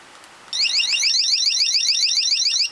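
A Sensormatic AM security tag alarm set off by its test button, a shrill warbling electronic tone that starts abruptly and sounds continuously at steady loudness, close by.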